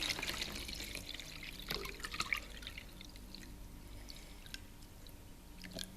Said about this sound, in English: Now, let's start pouring.